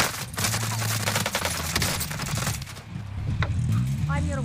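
Gunfire from a bounty target in Call of Duty Warzone battle royale, rapid automatic bursts at close range, with a voice talking over the shots.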